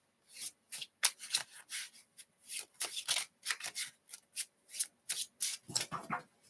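Tarot cards are shuffled by hand in a quick run of soft papery riffles and slides, close and quiet, with no voices.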